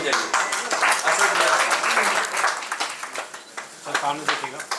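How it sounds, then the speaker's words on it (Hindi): An audience at an awards meet claps for students being honoured on stage, a scattered burst of applause mixed with nearby talking and stirring crowd noise. "ताली बजाइए।"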